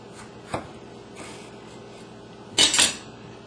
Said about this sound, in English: Start out with the tomatoes, just cut off the top.